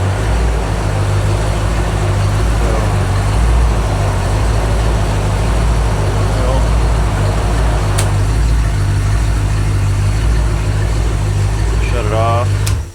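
A freshly rebuilt small-block Ford V8, a 289 or 302, idles on its break-in run with a loud, constant, even rumble throughout, with voices faintly over it.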